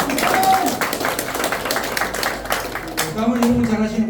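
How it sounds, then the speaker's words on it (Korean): Audience applause at a Korean political support-declaration event, a steady wash of clapping from a crowd across the whole stretch, with a voice over a loudspeaker joining near the end. "다시 한번 큰 박수 부탁드립니다."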